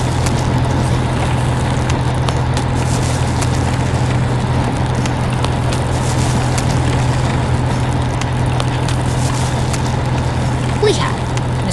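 Green tractor engine working a rice field in a farming video game, a steady low drone running throughout beneath prominent talking.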